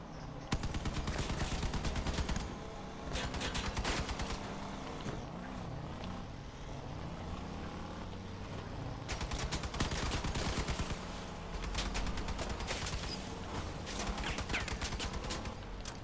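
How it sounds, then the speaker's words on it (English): Vehicle-mounted guns firing in the combat game Crossout, rapid bursts of automatic gunfire in several volleys over a constant engine drone of a moving armored vehicle, loud and close throughout. "Someone moving and shooting"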